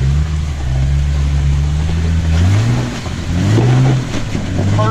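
Off-road vehicle engine out on a trail, a loud low drone whose pitch climbs in steps as the throttle opens, steady and close throughout.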